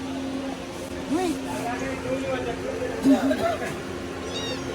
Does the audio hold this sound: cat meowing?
yes